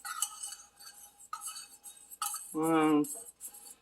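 A tiny whisk clinks and scrapes around a small pot while salve ingredients such as castor oil melt, in light, irregular metallic taps separated by brief pauses.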